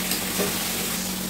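Marinated mutton frying in hot oil in a pan, giving a dense, steady sizzle that stays loud and even for a short moment, with no voices.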